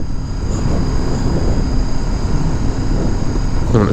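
Kawasaki Z7 Hybrid motorcycle in sport mode with manual shifting, riding with a steady engine drone and rushing wind, continuous and fairly loud throughout, with no clear gear-change breaks standing out.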